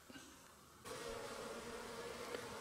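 Honeybees work the entrance of a hive at an apiary in February, a steady soft buzzing hum that swells in after a quiet moment and carries on evenly.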